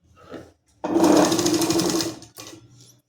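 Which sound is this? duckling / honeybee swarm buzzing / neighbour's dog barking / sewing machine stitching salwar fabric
sewing machine stitching salwar fabric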